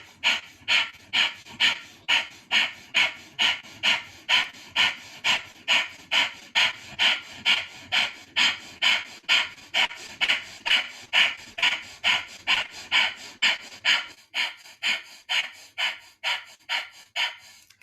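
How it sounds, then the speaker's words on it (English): Rapid, forceful rhythmic breath of fire from the navel during a kriya yoga practice, a steady train of sharp nasal puffs about two per second, close and evenly paced, continuing without pause for the whole stretch. "And begin breath of fire."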